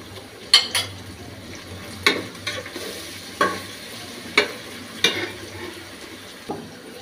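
Onion, ginger and garlic sizzling in a pan with a spoonful of cumin paste for a beef curry, a continuous close fry broken by sharp utensil stirs and scrapes about once a second.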